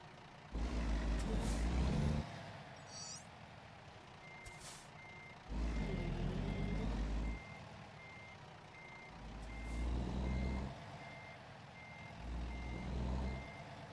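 A heavy truck reverses while shuffling back and forth through a tight turn: a steady reversing beeper repeats throughout over deep engine rumble that swells in several bursts, with an air brake hissing in between.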